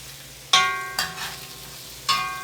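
Sliced potatoes fry in oil in a wok, sizzling steadily while a utensil scrapes and clanks against the metal pan in a few sharp, ringing strokes.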